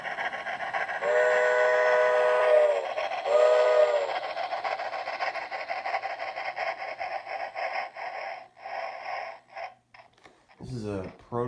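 An HO scale Proto 2000 Union Pacific model locomotive on a layout sounds two whistle blasts from its onboard sound, followed by a steady rumbling, chugging running sound that fades to choppy bursts before a voice begins speaking.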